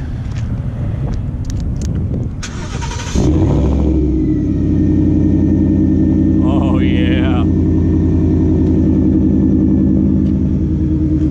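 A supercharged 700 hp Shelby F-150 Tonka Edition engine starts by remote partway through and settles into a loud, steady idle exhaust rumble, with a brief spoken remark and wind noise.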